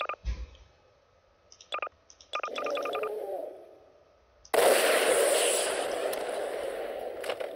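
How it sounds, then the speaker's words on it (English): Giant rocket launcher blasts in the Garry's Mod video game: a few sharp pops and clicks, then a loud, sustained roaring explosion that fills the back half, with game noise throughout. "Spinosaurus seem to be unaffected by giant rocket launchers."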